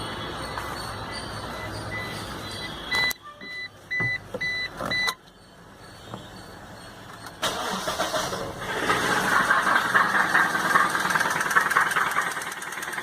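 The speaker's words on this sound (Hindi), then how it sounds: "जो इंजन में कनेक्टिंग का तो बेरिंग का साउंड था फ्रेंड्स।" A Maruti Suzuki SX4 with a worn, seized connecting rod bearing gives a few mechanical clicks, cranks, then catches and runs with a rough, knocking engine note, close and loud.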